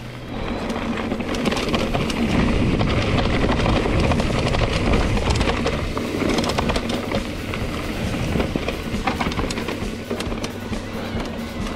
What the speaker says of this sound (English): All that noise from a bottle cage.